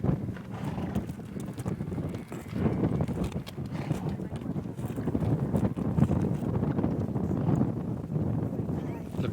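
A horse's hooves clip-clop steadily on the ground during a riding training session, moderately close, with wind buffeting the microphone throughout.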